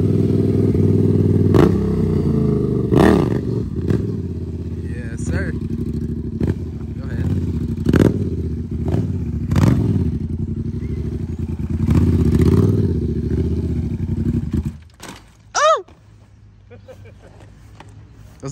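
Honda Monkey and Honda Grom motorcycles rev hard during wheelies, a loud sustained engine drone with surges and clattering, close by, fading out near the end with a brief rising whine and voices.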